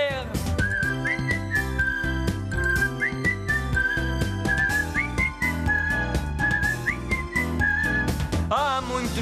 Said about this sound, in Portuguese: Sai um assobio e não há nada a temer.